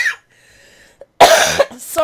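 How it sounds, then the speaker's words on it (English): A person coughs in two rough bursts close to the mic, each followed by a brief throaty rasp, after a short quiet pause. "Sorry about the coughing."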